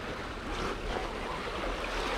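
Waves wash steadily onto a coastal beach in a continuous broadband rush, with wind noise blending in and no voices.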